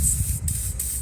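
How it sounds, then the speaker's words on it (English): WD-40 sprayed onto the rear brake bolts of a Fiat 500 Abarth, a close, loud continuous hiss broken by two brief gaps, with no talking. "WD-40 first."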